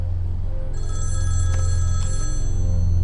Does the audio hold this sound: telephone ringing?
yes